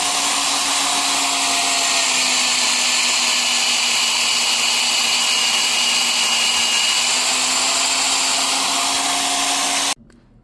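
A steady high-pitched whine of a counterbore cutting a drilled hole to seat threaded inserts runs unbroken for about ten seconds, then stops abruptly.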